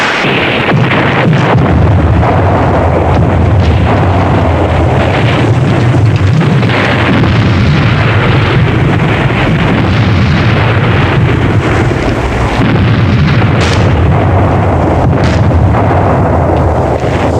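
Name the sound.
artillery fire and explosions in a war film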